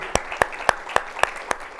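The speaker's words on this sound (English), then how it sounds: "Let's give a round of applause." Conference keynote audience clapping for an introduced guest: sharp, evenly spaced claps in a steady rhythm, about four per second, close and clear over a soft background murmur.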